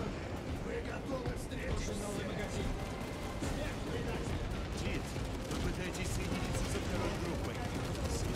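Dense, continuous gunfire from the video game Warhammer 40000 Space Marine 2 fills the whole stretch, loud volleys and rapid bursts layered over each other with a player talking underneath.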